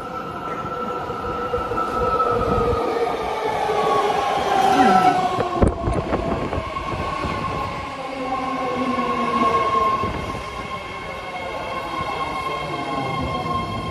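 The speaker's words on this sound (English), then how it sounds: "This is a Red Line train to Richmond." A new ten-car, three-door Red Line metro train bound for Richmond rolls up to a station platform, its motor whine rising and falling over rumbling wheels, with metallic squeals and a sharp clank midway.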